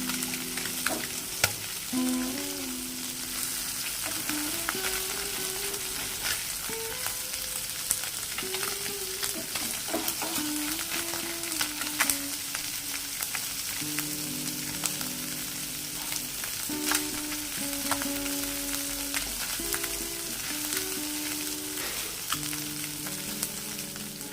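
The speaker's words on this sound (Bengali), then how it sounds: "মাছগুলো আমাদের ভাজা হয়ে গেছে" Small fish, rubbed with salt and turmeric, sizzle and crackle steadily in hot oil over a high gas flame, with occasional stirring and turning sounds throughout and no talking.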